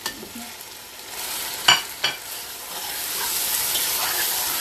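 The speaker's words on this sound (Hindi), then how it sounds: "पाँच मिनट इसको और भूनना है मसालों में भूनना है" Masala sizzles in a pot for Mughlai badami chicken handi: a steady, bright frying hiss with a few sharp scrapes of a spoon stirring. The hiss grows slightly louder toward the end.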